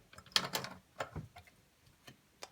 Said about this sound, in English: we're gonna grab this little crank thing for the pasta. This little crank, we're gonna put it in here